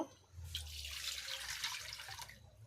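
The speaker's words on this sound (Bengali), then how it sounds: "কড়াইতে জল দিয়ে দেব।" Water splashes into a wok in a home kitchen, a soft hissing pour lasting about two seconds over a low background hum, faint and close, with no voices.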